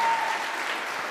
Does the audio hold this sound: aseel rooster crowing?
no